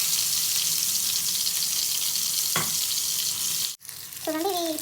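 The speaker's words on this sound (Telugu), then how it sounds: "అదే ఆయిల్లో ఈ వంకాయలు ఏవైతే ఉన్నాయో మనం వేసేసుకుందాం. ఇలా ఇది కూడా మంచిగా ఫ్రై అయిపోవాలి ఆయిల్." Eggplants fry in hot oil for a brinjal biryani, a steady loud hiss that runs throughout, broken by a brief clatter, a short dropout, and a voice near the end.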